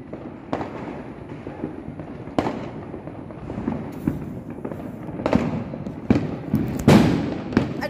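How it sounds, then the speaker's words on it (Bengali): Firecrackers burst outdoors at a child's birthday celebration: a series of sharp, loud cracks and pops at irregular intervals, some near and some farther off, over a background of crowd murmur. "প্রচুর বোমাবাজি ফুটছে, ওই দেখো কি সুন্দর"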